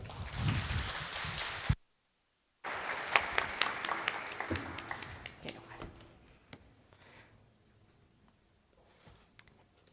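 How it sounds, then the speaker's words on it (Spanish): Applause from a small audience at a talk on video games in contemporary art: a dense burst that cuts off, then scattered individual claps that thin out and fade into near silence. "un fuerte aplauso,"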